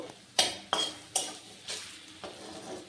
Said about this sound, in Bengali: এটার তেলের মধ্যে এগুলো ভেজে নেব